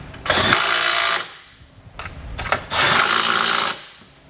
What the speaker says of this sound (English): We'll use a 17mm socket to tighten down the smaller bolts at the bottom of the frame.